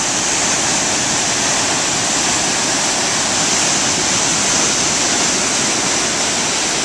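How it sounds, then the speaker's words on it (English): Big ocean waves breaking at Manhattan Beach, California, make a continuous loud, roaring wash of surf that stays steady throughout, with no voices. "Got some big waves today."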